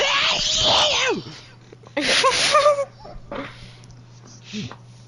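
A loud, violent sneeze performed by a voice during a tabletop Dungeons & Dragons session, a sharp burst with a strained, wheezy follow-through, then further vocal bursts and chatter around it.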